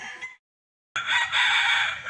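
A high-station Raptor gamefowl rooster on a gamefarm gives a short burst, breaks off to silence for a moment, then lets out a loud, close crow that carries to the end.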